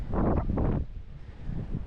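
Gale-force wind gusting across a stillwater trout lake in the UK, buffeting the microphone with two strong roaring gusts followed by a softer rush.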